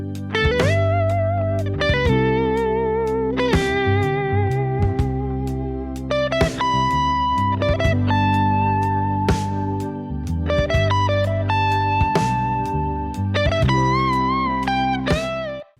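Electric guitar drenched in a wash reverb that blooms around each note, playing chords and melodic phrases over sustained, shimmering tails for about sixteen seconds, loud and alone without talking.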